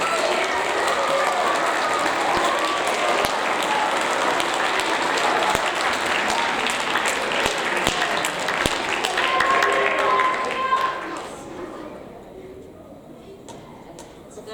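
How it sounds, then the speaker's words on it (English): Continuous applause from students and families at a seventh grade school awards ceremony, with dense clapping and a few sharper claps that taper off toward the end, leaving quieter room sound and faint voices. "All right, let's give them a round of applause."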